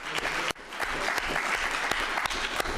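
Steady applause from the audience at a Metropolitan Transit Authority board meeting, dense and sustained throughout with a few sharper individual claps standing out.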